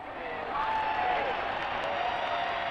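A large crowd cheers and applauds outside Buckingham Palace on Coronation Day, a broad continuous roar swelling slightly and holding, heard from a distance with a high whistle cutting through.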